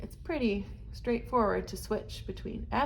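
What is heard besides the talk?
No everyday noises stand out.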